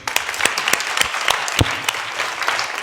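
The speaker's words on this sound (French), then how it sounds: "On s'applaudit." An audience at an evening book and reading festival applauds, brisk, fairly close clapping with distinct individual claps standing out, continuous and lively from start to finish.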